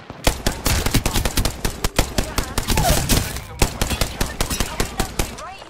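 Rapid automatic gunfire in an Apex Legends firefight, dense bursts of close, loud shots cracking almost continuously with brief gaps, a voice talking faintly underneath.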